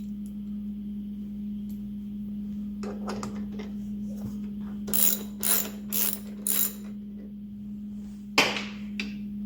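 A ratchet wrench loosens a 13 mm bolt on a DeWALT DWE7491RS table saw, giving a few quick bursts of clicking pawl ratcheting over a steady low hum, then a single sharp knock.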